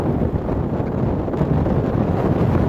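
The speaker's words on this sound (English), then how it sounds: "There's no place to hide from the wind." Strong wind roars across the microphone on a 13,000-foot Colorado mountain summit in winter, a loud, continuous buffeting rush with no voices.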